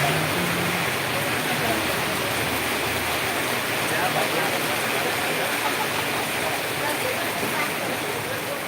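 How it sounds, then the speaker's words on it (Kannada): Heavy morning rain falls in a continuous, dense wash of pattering drops on surfaces, steady and fairly loud from start to finish, with faint speech mixed in. "ಬೆಳಗ್ಗೆ ಬೆಳಗ್ಗೆ ಮಳೆ ಬಂದೈತಿ"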